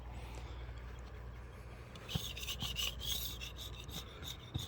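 A flat blade scrapes a decal off the side of an RV, giving close, rasping strokes that start quietly and turn louder and more rhythmic partway through, with no talking.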